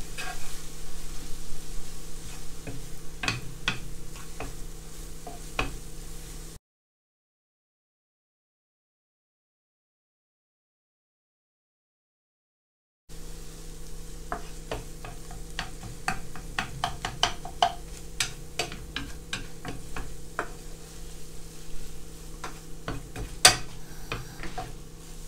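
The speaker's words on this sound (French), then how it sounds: "on ne s'arrête pas de mélanger jusqu'à la fin de la cuisson" Egyptian chakchouka cooks over low heat as a utensil stirs it constantly, giving soft sizzling and scattered light scraping clicks against the pan; a silent gap breaks it partway through.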